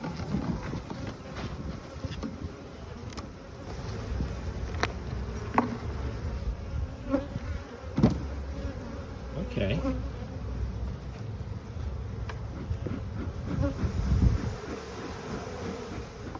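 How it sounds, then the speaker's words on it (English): Honeybees buzz steadily around a hive, with light wind rumble and one brief spoken word. "There's bees up there."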